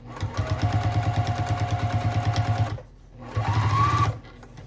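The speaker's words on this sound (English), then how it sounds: "And then you're going to start your stitching again. And I always back stitch." A sewing machine stitches quilt binding strips, running in a steady rapid rhythm for nearly three seconds, pausing briefly, then starting again for a shorter burst of back stitching, loud and close.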